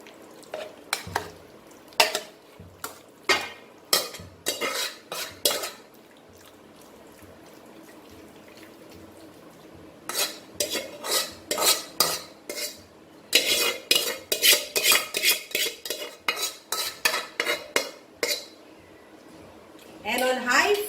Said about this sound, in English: put all these marinated pieces in the pan